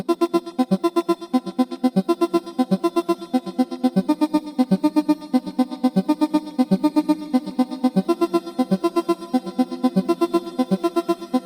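A repeating synth pattern pulses steadily, washed in reverb that blurs and sustains the notes, playing alone without any voices.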